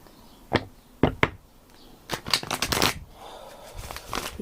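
Tarot cards being shuffled by hand, with a series of crisp riffling bursts and soft card slaps in an uneven rhythm, close and clear with no talking.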